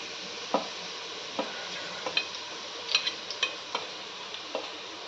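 Onion and garlic frying in a pan for a crab curry, a steady soft sizzle broken by about a dozen light spoon taps and scrapes as they are stirred, close and alone.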